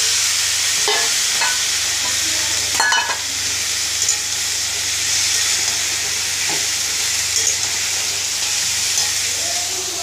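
Fried mung dal and drumstick stems stirred in a hot pan, a steady bright sizzle with occasional scraping stirs and clatters throughout, close and continuous.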